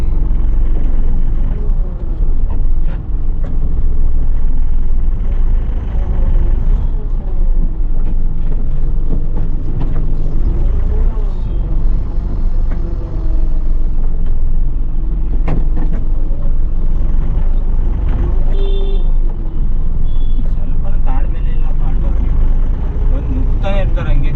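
Truck engine rumbling steadily while being driven, a low continuous drone with gear changes, heard under someone talking throughout.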